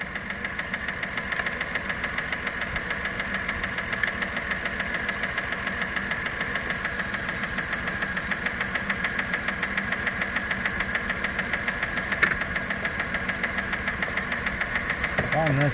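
The engine of a 1997 Dodge Caravan LE runs steadily at idle after a rod and main bearing replacement, a continuous close mechanical drone with a faint rhythmic tick, and a person speaks over it.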